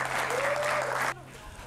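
Audience applause at a comedy show, a dense wash of clapping that cuts off abruptly near the end, with a voice briefly audible over it.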